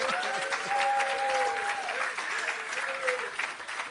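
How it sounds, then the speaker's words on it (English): An audience at the opening of an agro park in Clarendon, Jamaica gives a round of applause, a dense crowd clapping heard from some distance, with a voice and a faint tone over it. "Please give him another round of applause."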